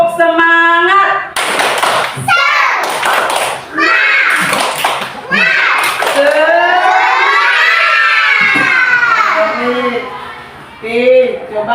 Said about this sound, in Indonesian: sebelum kita tepuk semangat